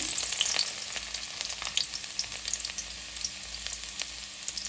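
Chopped garlic crackles and sizzles in hot oil for a Bengali bele fish curry, a steady bright frying hiss with small pops throughout, close up and with no voices.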